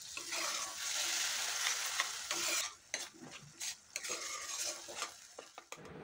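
Spice paste with a little water being sautéed and stirred in a pan for a paneer curry, a loud continuous sizzle with scraping strokes of the spoon, then quieter intermittent stirring and clinks.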